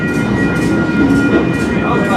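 Excursion train rolling southbound out of town on the Shamokin Valley line, a steady close rumble of wheels and carriage with a faint tonal whine, continuous throughout, with no talk.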